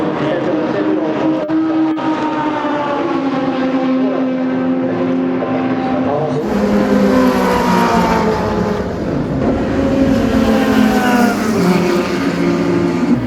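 Lotus race cars circulate at the Suzuka circuit, a dense, continuous roar of several engines layered together, loud throughout and swelling brighter about halfway as machines pass nearer.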